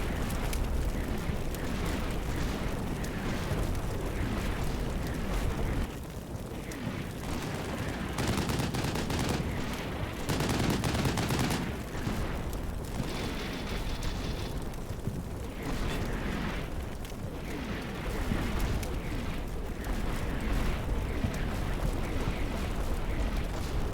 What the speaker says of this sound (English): the mortars start falling